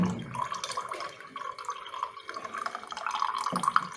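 Water splashes and trickles into blended raw mango, carrot and green chilli juice, a steady liquid pour with small drips and bubbling, close by with no talking.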